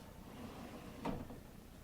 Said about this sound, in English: This drawer, this is a soft close drawer.